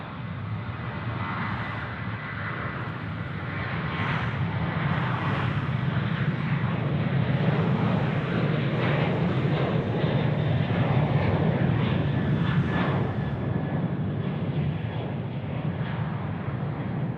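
A fixed-wing airliner takes off from runway 16 right at Sydney Airport, its engines producing a steady, loud, broadband roar that builds and holds for the whole stretch without any talk.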